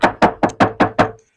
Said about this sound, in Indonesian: di bagian bagasi kita akan tutup, dan suaranya cempreng banget